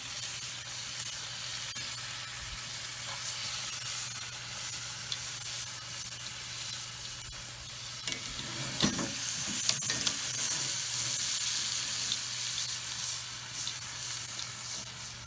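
Steady, close sizzling hiss of bacon frying in a cast iron pan over an open fire, with occasional crackles and a brief louder stir partway through.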